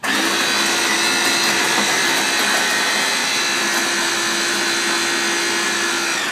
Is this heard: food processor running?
yes